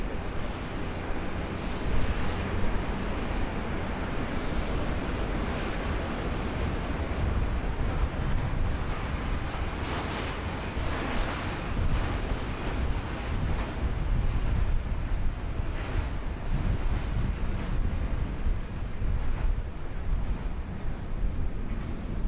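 An airliner taking off from runway 16 right at Sydney Airport, heard as a steady, broad, rumbling engine roar that stays loud and constant throughout, distant and without speech.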